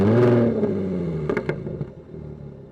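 A 2014 Jaguar F-Type 3.0 V6 S revs up sharply then settles into a throaty exhaust rumble, with a couple of crackles and pops as it idles down.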